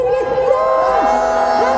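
A crowd at an outdoor political rally in Cheonan whoops and cheers loudly and continuously, with raised voices and a sustained tone running through the steady roar.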